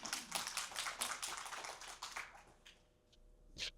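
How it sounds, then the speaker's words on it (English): An audience at a city district town hall claps briefly in a quiet, scattered patter of hands that thins out and fades after a few seconds, with a last few isolated claps. "Thanks for the claps."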